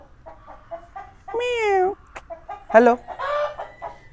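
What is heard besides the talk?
rooster clucking on a farm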